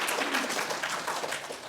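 A church congregation claps together in steady, moderately distant applause during a Sunday worship service, with no speech over it.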